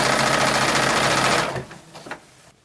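A domestic sewing machine stitches steadily and loudly for about a second and a half, then stops, leaving a few faint clicks and handling noises as fabric for a 1930s-style dress is adjusted.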